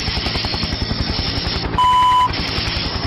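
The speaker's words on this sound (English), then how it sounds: "he could hear the sound of helicopter blades" Rapid, steady chopping thuds of helicopter blades run loud and close throughout, briefly interrupted by a flat electronic tone in the middle.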